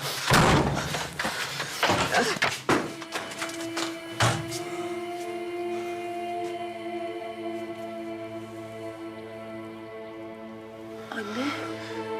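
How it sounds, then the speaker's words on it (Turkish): A door being forced and broken in: a burst of loud, heavy crashing blows at the start, with further sharp impacts a few seconds apart, over sustained droning background music. "Kıracağım kapıyı."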